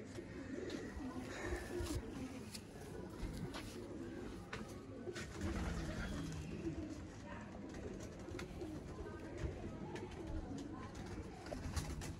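Pigeons coo continuously, with soft overlapping calls against a busy background murmur.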